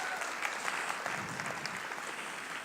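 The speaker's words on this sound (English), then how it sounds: "It's okay, you can applaud." An audience claps steadily at a campaign event for Carly Fiorina, producing a dense, even patter of hands that holds at a moderate level from start to finish, with no one talking over it.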